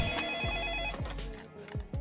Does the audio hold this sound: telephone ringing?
yes